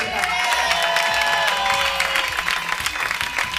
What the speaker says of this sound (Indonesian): tepuk tangan Dewi Sandra dong